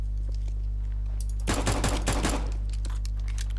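A quick burst of muffled, suppressed gunfire from an MP5SD submachine gun in Counter-Strike: Global Offensive, about a dozen rapid soft shots over a steady low hum, fairly faint.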